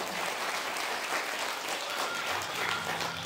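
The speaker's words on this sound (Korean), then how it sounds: "큰 박수 부탁드립니다" Crowd applause at a health concert event, a continuous soft wash of many hands clapping heard from a distance, fairly faint and even across the whole stretch.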